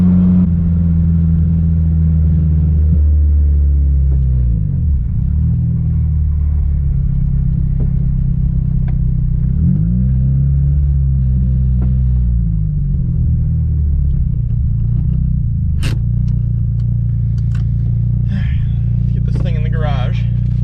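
A Mitsubishi Evo engine rumbles loudly and steadily from inside the car, which has no front end and overheats, its pitch rising and falling as it revs, with scattered clicks and rattles.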